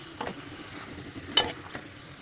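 Drained chicken skin frying in a pan and being stirred. The sound is a faint, low sizzle with a few scraping stirring strokes, one of them louder than the rest.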